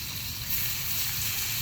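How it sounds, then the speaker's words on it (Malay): Fish frying in a pan gives a steady, fairly faint hiss and crackle throughout, with no voices over it. "Sizzling tu."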